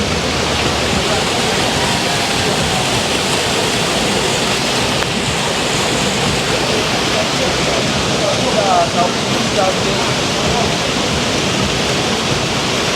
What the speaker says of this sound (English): one listen to river water flowing